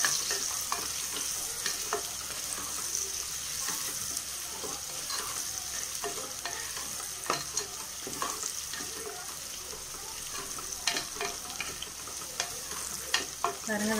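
Onions and green chilies sautéing and being stirred in a pan for chicken biryani, a steady close sizzle with frequent clicks and scrapes of a spoon against the metal, no voices.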